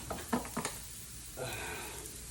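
Steak with peppers and onions sizzles in a pan, a faint, steady hiss after a few quick knocks and clatters at the start.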